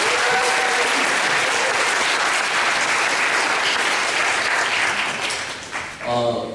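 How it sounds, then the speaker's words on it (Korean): A church congregation claps in sustained, dense applause that holds steady before tapering off, with a voice briefly rising at the very end. "이렇게 열심히 해준 우리 아이들한테는 박수 한번 보내줄까요?"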